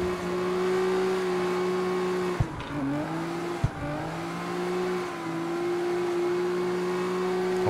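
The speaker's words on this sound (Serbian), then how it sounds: "Ali je lagano driftat s njim" Dodge Challenger SRT drifting in the CarX Street video game, its engine holding a steady loud drone with two brief sharp dips as the throttle blips, mixed with continuous tire squeal.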